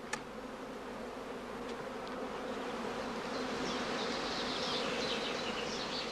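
A prime swarm of honey bees at a heather skep apiary makes a dense, continuous buzzing hum that swells slightly louder over time, with a sharp click at the very start.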